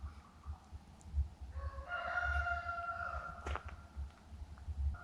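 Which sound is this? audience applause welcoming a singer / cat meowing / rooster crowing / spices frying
rooster crowing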